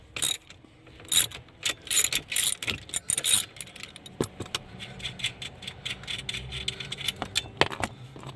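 Wrench working 12mm nuts on the steering of a Hyundai Sonata Hybrid, giving clusters of quick metallic ratchet clicks and light tool clinks in irregular bursts, close and otherwise quiet with no talk.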